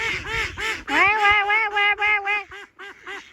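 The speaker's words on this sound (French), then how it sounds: "Regardez tous les canards. Salut! Ils me répondent" Several ducks quacking loudly and close by outdoors, a rapid run of nasal calls that rise in a busy burst, then thin out into a few spaced quacks, with no talk over them.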